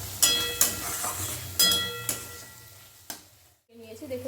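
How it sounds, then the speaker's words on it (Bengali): Spices and chopped tomato fry in a pan with a soft sizzle, punctuated by several sharp metal clinks of a spatula stirring, followed by a brief voice at the end. "এবার সমস্ত মশলা দিয়ে কিন্তু আর টমেটোটা দিয়েও কিন্তু খুব ভালো করে মশলাটা আগে কষবো।"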